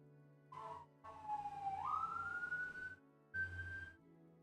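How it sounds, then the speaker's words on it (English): A wailing siren in the video game Hello Charlotte rises and sweeps upward in pitch through a long tone, then returns in a shorter burst, faint and with no one talking. "Appropriately timed siren."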